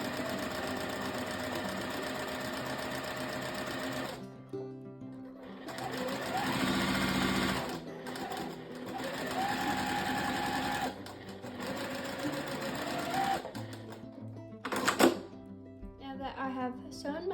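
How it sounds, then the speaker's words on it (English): Sewing machine running a 1/4 inch center seam, a close whirring stitch rhythm that runs in several long stretches with short pauses and speed changes. "now I'm just sewing the seam down the center with a 1/4 inch seam"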